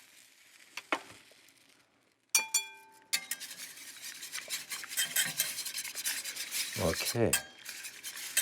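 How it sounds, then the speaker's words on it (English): Milk poured and stirred into a cooked lemon zest base in a pan: a sharp metallic clink, then steady rubbing and scraping of a utensil with a faint sizzle, a brief word spoken early on. "now they are cooked enough, is to mix some milk in there."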